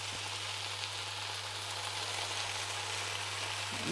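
Lentil cooking water hisses into a hot pan of drumstick leaves, setting off a steady, fairly quiet sizzle that continues throughout with no talking.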